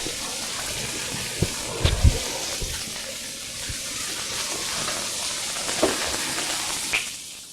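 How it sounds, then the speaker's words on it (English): Chicken sizzles in a frying pan over high heat, a steady hissing crackle with a few clanks of the pan and utensils, close and constant. "So we're going to put this now on my frying pan. Listen to that sizzle."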